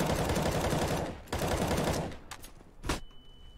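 Rapid automatic gunfire in the shooter game CS:GO, a long dense burst with a brief break, then scattered single shots and a short final burst, loud and close.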